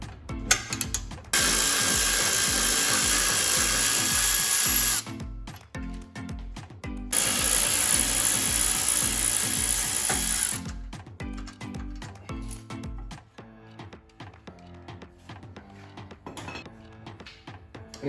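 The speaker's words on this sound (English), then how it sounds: "So we'll go ahead and break these loose with a breaker bar." A breaker bar breaking loose the 15 mm bolts that hold a brake caliper bracket: loud, close metallic clanking and ratchet-like clicking in long bursts with short pauses between, no talking.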